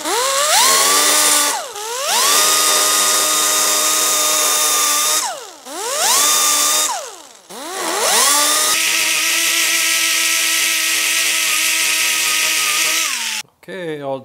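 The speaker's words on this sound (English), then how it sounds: "all done grinding," An angle grinder works on a welded steel hydro boost mount for a GTO restomod, whining loudly in several bursts that spin up, hold steady and wind down in between, close and prominent.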